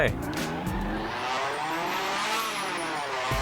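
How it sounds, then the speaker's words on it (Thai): A 5th-generation Honda Civic engine in GTA V revving hard up through the gears, pitch climbing and dropping at each shift, loud and close, with a voice talking over it. "เกียร์หนึ่งไปเกียร์สองเกียร์สาม มีเสียงรอบตัดเลย"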